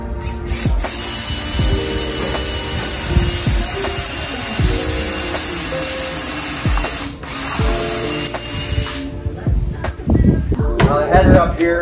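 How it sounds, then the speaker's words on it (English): A power drill with a quarter-inch bit bores a pilot hole through a wooden door frame into a stucco-covered header during a bifold door installation, with several steady whirring runs broken by short pauses and clicks, close and loud. "we wanna pre-drill a hole through"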